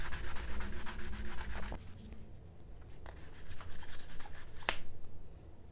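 Sandpaper scrubbing a plastic model railroad panel, close rhythmic back-and-forth rasping strokes in two bursts separated by a brief pause, fairly loud and alone.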